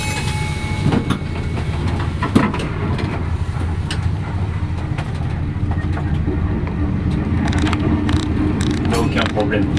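Two trains passing at full speed, a loud continuous rumble with rail clatter and scattered sharp clicks, close by, with a voice faintly mixed in.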